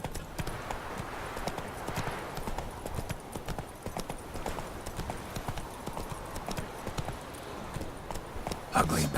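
A horse gallops in The Witcher 3, a rapid, steady clip-clop of hooves running throughout at close range, with a voice speaking over it.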